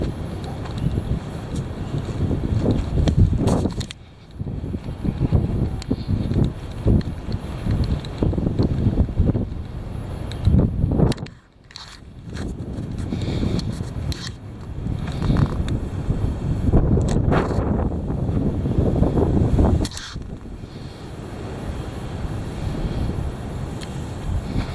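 Heavy wind buffeting hard, a loud low roar and rumble of gusts battering the microphone, dropping briefly at a few moments before surging back.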